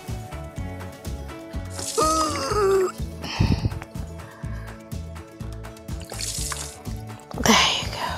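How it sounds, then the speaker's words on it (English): Water drips and trickles from doll clothes squeezed out after a toy washing machine cycle, coming as brief splashes over soft background music. "Now let's squeeze out all the water."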